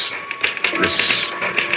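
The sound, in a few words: typewriter typing in radio drama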